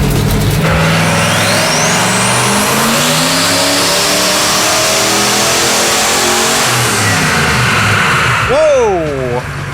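Turbocharged 302 cubic inch engine in a Datsun-based Rotsun roaring through a first dyno pull, one long loud rising run with turbo whine before abruptly backing off and settling.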